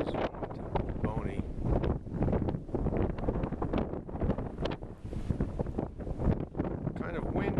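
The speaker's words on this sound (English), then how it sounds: "Kind of windy" Strong gusting wind buffets the microphone on a canyon hike on a warm day, loud and continuous and blending with a voice speaking over it.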